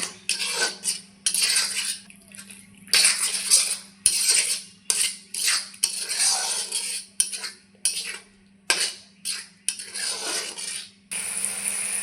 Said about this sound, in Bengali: ভেজে রাখা আলু দিয়ে দিচ্ছি আবারও মশলার সঙ্গে কষিয়ে নেব